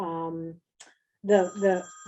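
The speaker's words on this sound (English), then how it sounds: "it's all right if the honored speaker of the night has her phone go off" A mobile phone rings during an evening lecture with a short melodic tone that stops abruptly. After a brief pause, a voice begins speaking.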